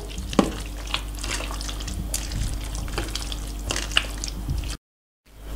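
A spoon stirring spinach pie filling mixed with crumbled feta, producing a continuous wet, squishy scraping with small clicks against the bowl, fairly close and loud, before cutting to silence at the end.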